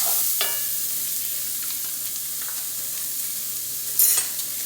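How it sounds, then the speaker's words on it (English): Seasoned cabbage cooks in a pan, a soft continuous sizzle under scraping stirs, with a sharper clatter of utensil against pan near the end; no talking. "So then I'm gonna add my seasoning to that. The seasoning, kind of mix it up."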